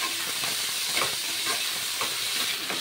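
Chopped potatoes and onion frying in a pan give a steady broadband sizzle, with a few soft stirring scrapes at intervals; no voices.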